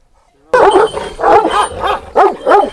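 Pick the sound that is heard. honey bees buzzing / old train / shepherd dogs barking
shepherd dogs barking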